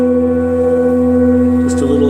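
Heavier contemporary singing bowl, number 503, ringing in a steady, loud, close drone with a strong bright overtone and no break, a brief faint rustle near the end.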